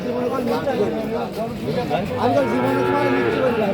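A young Gir bull calf moos in drawn-out calls, close by, amid a noisy background of a crowded livestock market at Arankhola, Ishwardi, Pabna, Bangladesh.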